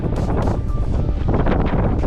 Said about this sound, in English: Oh, is it ever windy?